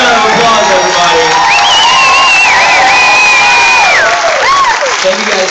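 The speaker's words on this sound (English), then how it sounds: "Huge round of applause, everybody" An audience applauds and cheers loudly for the Willy Wonka cast at the Ritz. Whoops and shouts rise above the steady clapping, and voices carry through the noise.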